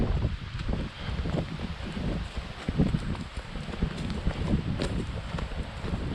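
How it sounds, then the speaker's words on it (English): Autumn wind blowing through the leaves of beech trees in a sheltered woodland in the Peak District: a continuous, gusty rustle with heavy buffeting, loud and close throughout. "The sound of the wind hitting these leaves, very nice"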